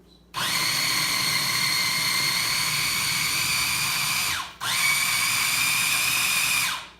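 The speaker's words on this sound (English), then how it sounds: "puree up the mini chopper" A small electric mini chopper purees tahini, lemon juice and olive oil in a loud, steady high-pitched whir that runs for about four seconds, stops briefly, then starts again for a second run, with no talking.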